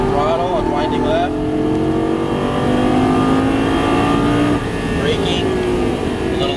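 Lamborghini Gallardo engine revving under throttle on a track, a steady loud drone with rising pitch sweeps as the car accelerates, shifting partway through while an instructor talks over it.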